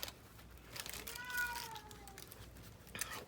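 An indoor house cat gives one faint, drawn-out meow in a quiet room, set against light paper crinkling during collage work on brown kraft paper.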